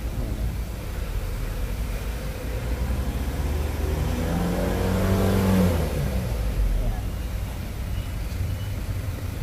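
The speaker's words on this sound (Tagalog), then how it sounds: "Ngayon rev natin, ayan o." A car's dual turbo engine, recently refitted and checked for smoke after an EGR cooler issue, is revved up and then eases back down, a loud, steady rumbling rise and fall heard up close.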